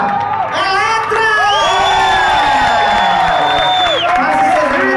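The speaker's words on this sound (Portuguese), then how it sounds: "eu quero que vocês aplaudam muito" An audience at a drag hair-whipping show final cheers loudly and without a break. Whoops and shouting dominate throughout, with voices rising over the crowd noise.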